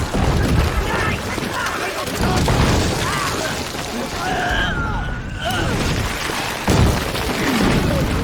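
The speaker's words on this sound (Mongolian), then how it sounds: "гэнт тэдний дээрээс их буу миномотны сум өндөр шиг л бууна" Artillery and mortar shells burst in a war film bombardment, a dense run of heavy booms and crackling blasts filling the scene while a narrator's voice talks over it.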